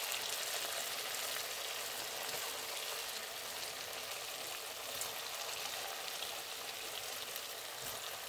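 Carrot langcha, rolled dough pieces, frying in hot oil in a kadai, giving a steady, even sizzle with a dense bubbling hiss that holds throughout, close and unbroken, with no voices.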